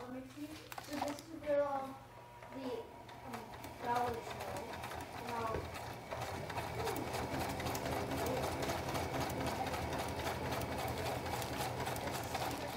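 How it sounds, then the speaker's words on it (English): A voice talks first, then a sewing machine runs a flat felled seam on Cuben fiber with a steady, close, fast mechanical whir that lasts to the end. "I'm just gonna sew another flat felt seam along the crotch"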